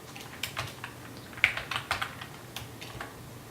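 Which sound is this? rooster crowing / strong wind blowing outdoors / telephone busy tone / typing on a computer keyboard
typing on a computer keyboard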